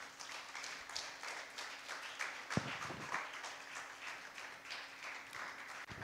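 A church congregation applauds, a dense, steady wash of many hands clapping throughout, with one sharper knock partway through.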